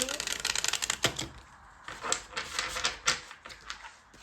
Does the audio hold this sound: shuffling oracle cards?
yes